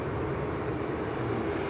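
EasyJet and Ryanair Airbus airliners taxiing at Manchester Airport, a steady low engine rumble and roar held evenly at a distance, with no voices.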